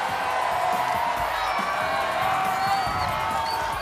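Audience at a lively Indonesian TV variety show cheers, whoops and applauds in a dense, sustained crowd roar that stays loud throughout, with shouts rising above the mass of sound.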